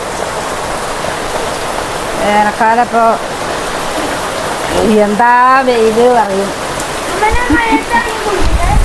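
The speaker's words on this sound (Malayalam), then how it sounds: "മഴ പെയ്യുമ്പോൾ മടിച്ചിട്ടൊന്നും കാര്യമില്ല മഴക്കാലല്ലേ" Steady monsoon rain pours in a dense, even hiss near a paddy field during the first rains of the season, while two people talk over it in short exchanges.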